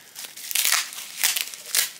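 Crinkly tearing and snipping bursts of plastic packing tape being cut with scissors, several quick noisy strokes close up, no talking.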